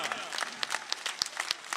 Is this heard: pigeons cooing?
no